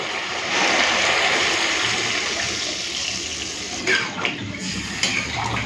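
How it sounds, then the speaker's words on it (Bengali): Water pours steadily into a pan of spiced masala for a fish curry, a loud continuous gush that ends with a few small splashes and clinks. "চলো এই সময় আমি দিয়ে দেবো পরিমাণ মতো জল।"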